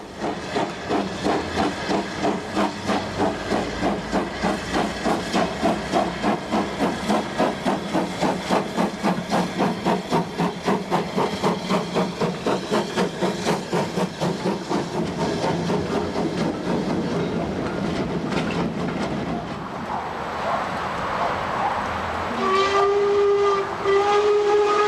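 LMS Ivatt Class 2 Mogul steam locomotive 46521 working a test train between Eastleigh and Yeovil, its exhaust beating in a fast, steady rhythm of loud chuffs with hissing steam before the beats fade and whistle tones sound near the end.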